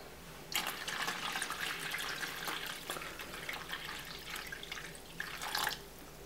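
Water poured into a container holding a potato, a close, steady splashing trickle that runs for several seconds and swells briefly near the end, with no voices.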